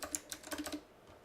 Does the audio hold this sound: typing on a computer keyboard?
yes